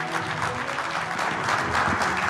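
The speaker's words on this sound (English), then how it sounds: "let's give Mr. Abbott a big round of applause" A big round of applause from a summit audience, with loud, dense clapping that stays full and steady, swelling slightly toward the end.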